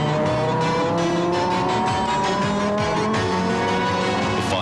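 An Audi five-cylinder turbocharged Quattro race car on a qualifying run through the Long Beach street circuit, its engine roaring loud and steady from onboard as revs climb and fall through gear changes, with tires squealing briefly.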